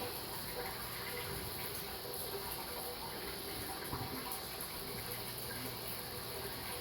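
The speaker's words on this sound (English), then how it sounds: "About the other 75 gallons of water to add to the tank." Water pouring in to refill a 220-gallon cichlid aquarium during a water change, a faint, steady gushing rush that holds at an even level throughout, with no speech.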